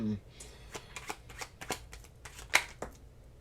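Tarot cards are shuffled and drawn close up in a quiet room, a run of soft riffling slaps and flicks with one sharper snap, while a voice talks faintly in the background.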